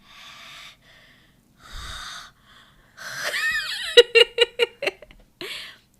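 A voice imitates a very tall man's loud, heavy breathing: several breathy wheezing bursts, then a rising squeaky vocal sound and a rapid run of short snorting puffs, close and alone.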